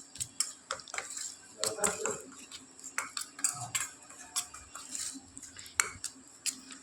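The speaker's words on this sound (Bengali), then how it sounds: "ভালো করে মিলিয়ে নিচ্ছি যাতে মশলাগুলো ভালোভাবে মিলে যায়" Spices being stirred in a pan, with yogurt going in for a chhanar dalna curry: repeated light scraping clicks and taps of a utensil against the pan in an irregular rhythm, close and fairly quiet, with a faint voice in the background.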